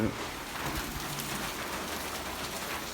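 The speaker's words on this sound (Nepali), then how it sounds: "एकदम बवाल झरी परिरहेको" Steady broadband hiss of heavy rain pouring down on a deserted roadside market, constant and enveloping, with a faint voice briefly at the start.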